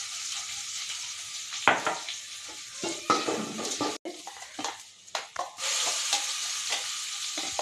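Tempering spices crackle and sizzle in hot oil for a chennangi pachadi, with a steady hiss, sharp spatters and occasional metal clinks of a spoon against the pan, pausing briefly midway before the sizzle swells again.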